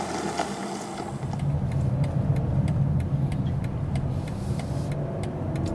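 Engine and road noise from a BMW X5 40i G05 while driving, a steady mid-range hum and rumble that holds even throughout.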